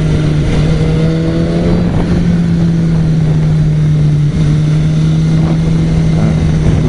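A race car on a track, engine droning steadily and loud throughout with pitch shifts as it slows for a corner, accelerates, then brakes to hold the apex line.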